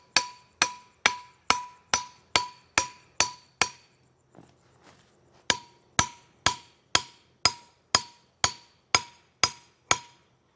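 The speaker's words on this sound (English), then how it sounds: "Put her in the ground. We're going to hammer it." Sharp, evenly spaced metallic hammer strikes driving an earth anchor into the ground, about eight in a row, a short pause with faint shuffling, then another steady run of blows.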